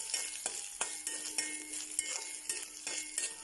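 Grated coconut roasts in a pan for a horse gram thoran, with a spoon scraping and stirring in regular strokes every half second or so over a soft, continuous sizzle, close and alone.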